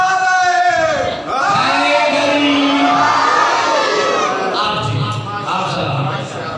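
A large majlis congregation gathered for a Muharram mourning assembly chants religious slogans in unison praising Ali, loud and close, with crowd voices rising and falling in rhythmic waves across the whole stretch.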